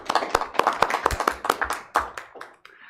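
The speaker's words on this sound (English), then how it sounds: "That applause was for you." A small group at a council meeting claps in a short, uneven burst of distinct hand claps that thins out and stops within a few seconds.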